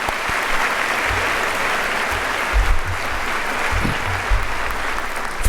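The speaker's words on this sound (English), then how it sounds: "applause to you all." A room full of people at a medical school white coat ceremony claps steadily and loudly, dense applause with a few louder thumps mixed in, and no voices standing out.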